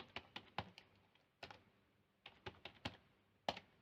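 Password keystrokes tapped on a computer keyboard while setting up an Asus Chromebit CS10, heard as short bursts of sharp, close clicks with brief pauses between groups.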